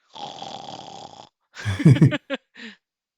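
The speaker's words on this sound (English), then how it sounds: "she's snoring behind me" A person snoring nearby, one long raspy breath followed by a gap and then a shorter burst of rough, snorting snores.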